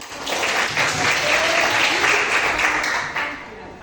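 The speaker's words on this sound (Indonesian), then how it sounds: "Tepuk tangan kepada Mbak." A classroom of students breaks into steady, fairly loud clapping that lasts a few seconds, with a voice speaking faintly over it.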